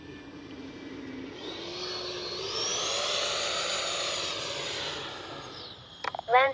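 A Freewing 90mm T-45 Goshawk electric ducted-fan RC jet passes overhead, its whine rising, sweeping in pitch as it flies by and fading, followed by a few close knocks and rustles near the end.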